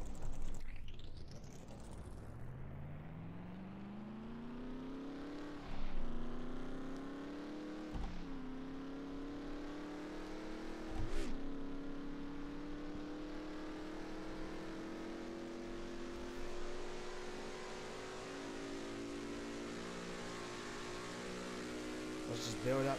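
Race car engine in a racing video game, running with a Texas two-step setup and a higher spoiler, revving up steadily through repeated gear shifts in long rising sweeps, loud and continuous, with a few sharp clunks between shifts.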